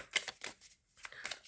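Tarot cards being shuffled by hand in quiet, close riffling bursts with a brief pause midway, no voices.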